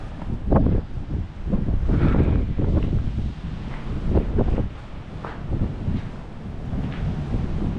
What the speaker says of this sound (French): vous entendez le vent, c'est incroyable